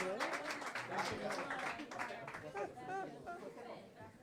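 Audience applause and cheering at a live mariachi performance, a dense wash of clapping mixed with crowd chatter and voices throughout, moderately loud and steady.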